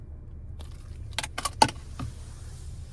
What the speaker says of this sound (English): here is our key fob with remote start